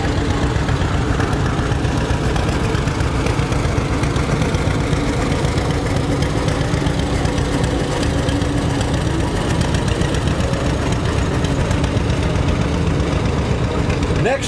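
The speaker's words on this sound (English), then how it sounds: "a 1949 John Deere D, driven by Wesley Hobbs of Waukene, Kansas" A 1949 John Deere D tractor engine runs steadily with a low, throbbing, loud rumble at an outdoor tractor parade, continuous throughout.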